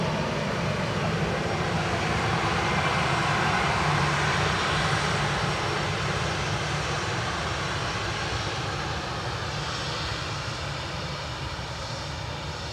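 A Ryanair airliner at Dublin Airport roars past in a steady, loud, broad engine rumble that holds throughout and eases only slightly toward the end.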